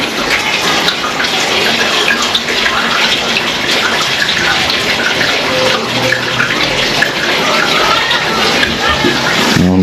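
Water rushes steadily into a washing machine as it fills, a loud continuous gushing that runs the whole way through without a break.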